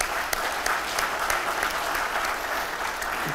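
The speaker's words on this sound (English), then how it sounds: "I think we need to give him a round of applause for all the organization." Applause breaks out at a fisheries and aquaculture committee hearing, a steady wash of many hands clapping at moderate volume for about three seconds, with no talk over it.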